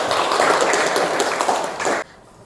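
Students in a classroom clapping their hands together, a brief, dense burst of applause from a group that stops abruptly after about two seconds.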